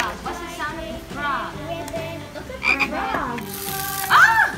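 Remote-controlled toy frog giving a run of rapid croaks and ratcheting, mechanical chirps with warbling electronic tones, loud and close, with a brief bright squeal near the end.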